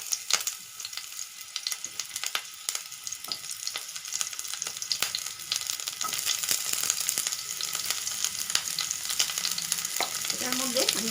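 Capsicum rings fry in hot mustard oil with a dense, crackling sizzle and sharp pops that grow steadily louder and busier, close up and with no voices.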